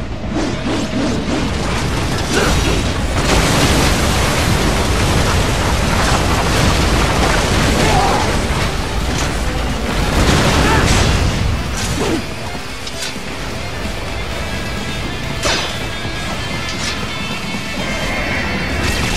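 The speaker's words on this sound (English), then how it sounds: "They swapped out the hydraulic cutter for a plasma cannon." Plasma cannon blasts in Metal Gear Rising: Revengeance on PS3, a dense, loud run of booming impacts, crashes and whooshes layered over busy game action throughout.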